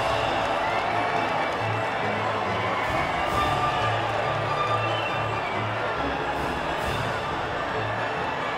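A crowd cheers and claps at the podium after the Mexican Grand Prix in the F1 2019 game, a steady, dense roar of cheering with low rhythmic chanting that carries on without a break.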